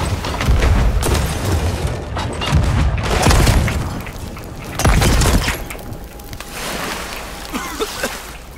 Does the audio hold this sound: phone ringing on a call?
no